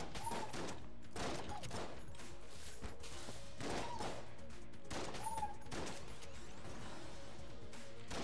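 A sawed-off shotgun fires repeatedly in Enter the Gungeon, loud punchy blasts arriving in an uneven rhythm over a busy layer of game effects.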